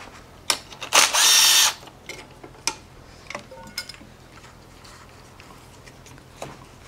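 A DeWalt gyroscopic cordless screwdriver gives one short, loud motor whir of about half a second among scattered clicks and handling knocks, close by with no talk.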